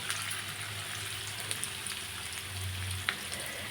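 Unpeeled potato pieces sauté in hot oil for an aloo matar curry, a soft, even sizzle that runs the whole time with a faint low hum and a few small pops.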